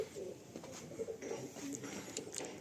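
Sili-type pigeons coo softly in a loft, a faint, distant murmur of repeated coos with light shuffling and no clear talk.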